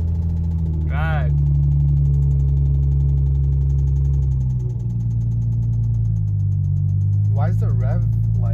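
A Nissan G35 drift car's engine runs steadily at idle, a loud, continuous low hum and vibration that holds throughout, with people talking briefly over it.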